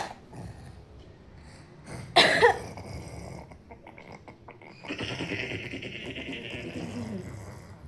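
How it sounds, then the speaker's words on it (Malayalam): A child's single sharp, phlegmy cough bursts out, followed by a rough, raspy breathy sound and a steady hiss afterward. "ഭയങ്കര ആ ചുമ ഇതുവരെ മാറിയിട്ടില്ല"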